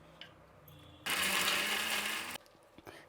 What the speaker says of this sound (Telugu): ఇప్పుడు మిక్సీ పడదాము.